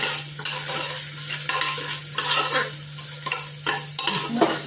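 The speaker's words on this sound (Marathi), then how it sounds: "मस्तपैकी फोडणी तयार झाली." Spluttering oil tempering, or phodni, fries in a pan while a spoon scrapes and stirs it in repeated strokes, a close, continuous hiss and crackle with rhythmic scraping throughout.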